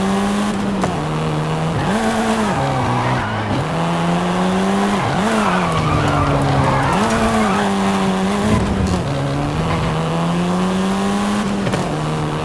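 A Volkswagen Golf R racing in Forza Horizon 5, engine revving loudly and continuously up and down through gear changes, with tire squeal and skidding mixed in throughout.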